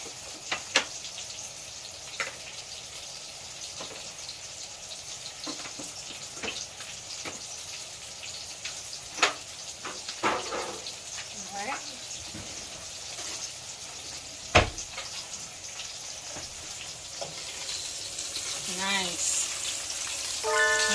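Sausage frying for a seafood boil, a faint crackling sizzle with scattered pops and clicks throughout and a louder burst near the end.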